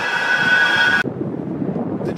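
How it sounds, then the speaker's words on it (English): A tram on Oldham Street rumbles past with a bright, steady whine that cuts off abruptly, leaving lower street rumble and wind behind; loud and close, with no talking. "The bus and tram race, come on tram."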